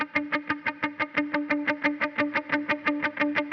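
Overdriven electric guitar strums a steady repeating eighth-note rhythm, each attack trailed by dotted-eighth delay repeats and a dark, modulated plate reverb tail, loud and alone with no voices.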